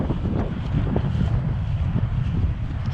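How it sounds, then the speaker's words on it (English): Wind buffets the microphone beside the Chesterfield Canal in open countryside, a steady, loud low rumble with gusty swells throughout and no voices. "It's getting very windy as well now we're out in the country."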